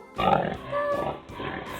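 A human voice imitates a pig's grunting with a few rough, snorting grunts, close and fairly loud.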